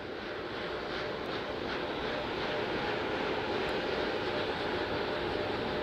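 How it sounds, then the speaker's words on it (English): Artemis I core stage with four RS-25 engines gimbaling during a thrust vector control actuator test: a steady, dense broadband roar and hiss holds throughout at constant level, with no speech. "look for that thrust vector control actuator test."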